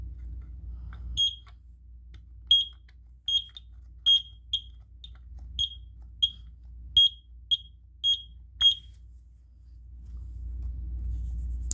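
A smoke alarm sounding in short, piercing high-pitched beeps, about a dozen chirps at uneven intervals, loud and close over a low background hum that returns alone at both ends.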